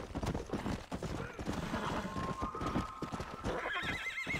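A horse in the Red Dead Redemption video game gallops with rapid hoofbeats and lets out a loud neigh near the end, its whinny rising and wavering over the running.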